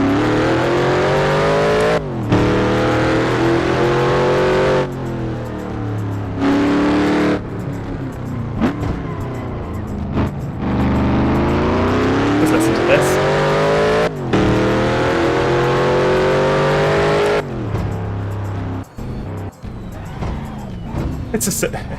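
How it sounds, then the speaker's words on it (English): Loud race car engine in a racing video game on a Detroit street circuit, revving hard and rising through gears with repeated upshift sweeps and brief lifts, continuous and close throughout. "It's the simple things, It's good to hear a loud car."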